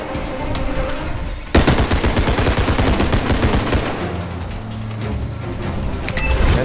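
Dense rapid automatic gunfire in the realistic shooter game Bodycam, a loud sustained burst of close shots with mechanical rattle, easing slightly then picking up again.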